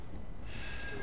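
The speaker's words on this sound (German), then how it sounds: "Telefon Roy." A telephone ringing in the horror video game Still Wakes The Deep, a brief electronic ring tone that rises over a dense, droning ambient background.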